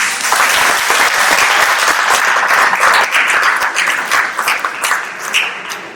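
Sustained audience applause fills a youth conference hall at Aston Villa FC in Birmingham, dense and loud throughout, thinning slightly toward the end.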